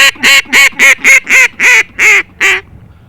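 Nine loud, nasal quacking blasts from an acrylic duck call blown as a hail call in quick succession, each note sharp and honking, the last ones held slightly longer before stopping.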